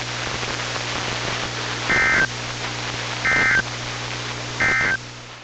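A NOAA Weather Radio weekly test ends with three short, evenly spaced electronic alert bursts over steady radio static and a low hum, with no speech.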